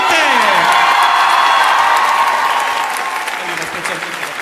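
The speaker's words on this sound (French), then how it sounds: "Donc on va encore applaudir plus fort." A large audience applauds loudly with cheers and whoops, a dense and sustained roar of clapping. Voices call out over it and a sweeping tone glides underneath at the start.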